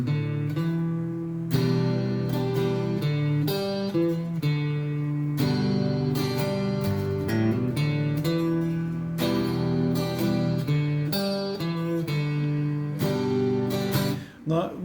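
Opening of a song played as layered guitar chords, a steady, full strummed texture with distinct chord changes running continuously at a moderate, even level with no voices.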